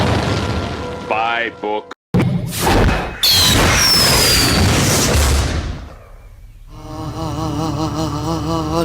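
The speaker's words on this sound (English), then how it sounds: "That cannon of yours is against regulations." A cannon fires with a sharp booming blast and a rumbling burst, loud and close, with voices talking before it and music-like tones following.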